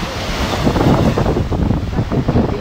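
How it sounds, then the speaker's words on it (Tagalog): Sea waves wash steadily on a Kuwait seaside shore while wind buffets the microphone, a broad rushing roar that swells and eases. "Ayan po yung dagat, guys."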